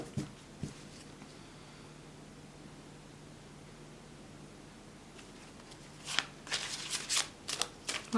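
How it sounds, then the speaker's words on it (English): Oracle cards are shuffled in short bursts, a faint riffle at the start, then a near-silent pause, then a quick cluster of soft flicks and slides toward the end against low background hiss. "So just give me a few seconds so that I can shuffle, clear the energies."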